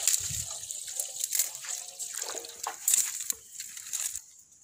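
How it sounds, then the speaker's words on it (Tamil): Water trickling and splashing as a little is poured into a pan to boil chicken liver for a Tamil liver and gizzard gravy, a steady close pour that tapers off near the end, with no talk. "ஃபஸ்ட்டு கொஞ்சம் தண்ணி ஊற்றி அந்த கல்லீரலை வேக வச்சுக்கலாங்க."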